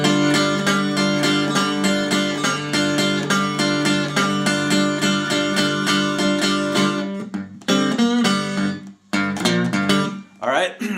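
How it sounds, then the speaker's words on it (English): Delta blues guitar lick from a song: a steady run of plucked, ringing notes with a driving pulse, breaking into a few sparser phrases near the end, played alone. "the introduction of the song is this very typical Delta blues lick,"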